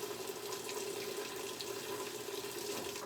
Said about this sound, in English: I tend to like to push the button and get the water started first